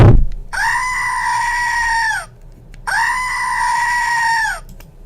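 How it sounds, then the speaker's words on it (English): Goat bleating sound effect: two drawn-out, wavering bleats, each lasting well over a second with a short pause between, loud and close with nothing else behind them. "We got the Billy the Goat."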